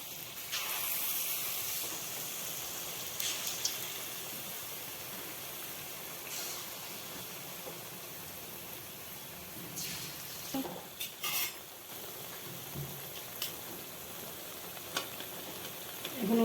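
Suji boondi frying in oil for motichoor laddu, a soft continuous sizzle and hiss with occasional light stirring clinks and scrapes against the pan, fairly quiet and without talking.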